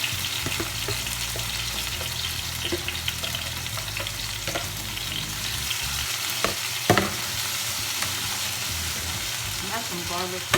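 Onions sauteing in coconut oil in a pan, giving a steady close sizzle and crackle that runs throughout, with occasional stirring scrapes and clinks over the hiss.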